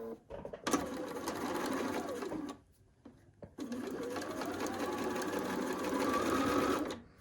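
A sewing machine chain piecing quilt seams runs in two long, steady bursts of rapid stitching, separated by a short pause with quieter handling sounds.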